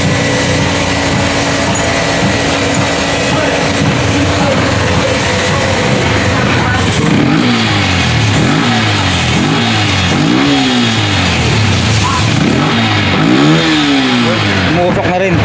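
A Yamaha Sniper V1 motorcycle engine at about 100,914 on the odometer, due for an engine refresh, runs loud and close, idling steadily, then revving repeatedly in rising and falling surges.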